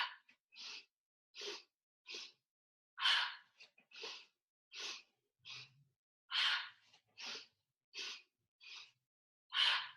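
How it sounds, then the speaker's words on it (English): Deep, breathy inhales and exhales during hatha yoga breathing, about a dozen distinct airy breaths spaced evenly and heard close up in an otherwise quiet room, with no talking. "Inhaling."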